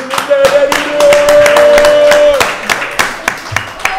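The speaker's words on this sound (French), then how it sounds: "Mais écoutez, on l'applaudit encore bien fort" A crowd claps and applauds in a quick, uneven patter, with a voice speaking and a sustained musical tone ringing through the first half.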